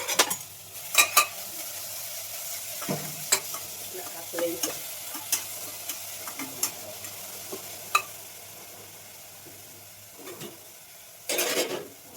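Chili powder, coriander and green chilies frying in a pan while being stirred, a low steady sizzle broken by intermittent scrapes and taps of the spoon, with a louder stir burst near the end.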